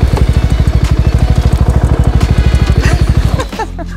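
A motor scooter engine runs hard on a field race, a fast steady train of loud, close firing pulses that drop suddenly to a softer idle near the end.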